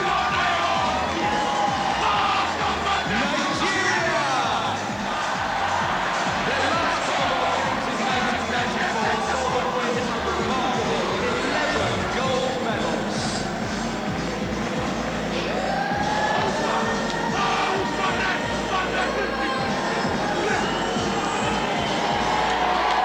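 At the 2002 Manchester Commonwealth Games opening ceremony, a haka chant rises from a big stadium crowd, steady loud roaring and shouting that fills the whole span with constant cheering.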